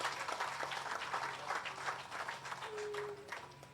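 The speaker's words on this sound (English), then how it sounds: "Again, round of applause for the effort." An audience claps steadily at a housing presentation in Roseau, a moderate, even spread of applause with a low hum underneath and a short tone near the end.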